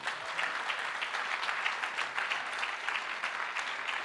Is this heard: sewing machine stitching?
no